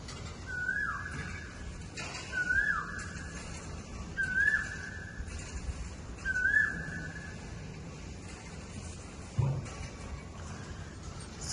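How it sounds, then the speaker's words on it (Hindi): A koel singing at 5 in the morning, repeating a clear, rising whistled call four times at regular intervals of about two seconds over faint background ambience. "सुबह के 5 बज रहे हैं और देखिए कोयल कैसे बोल रही है।"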